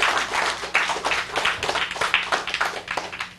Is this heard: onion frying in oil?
no